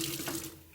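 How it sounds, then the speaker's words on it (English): Reverse osmosis filtered water running steadily from a dedicated second tap into a kitchen sink, a close, continuous hiss and splash that eases slightly toward the end. "the reverse osmosis water comes out at the second tap"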